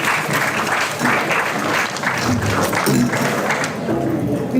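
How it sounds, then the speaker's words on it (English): Sustained audience applause for an invited speaker at an environment summit, a steady dense wash of clapping from a large crowd throughout, close and fairly loud, with no speech over it. "May I please request a huge round of applause for our invited speaker, Professor Pradyut."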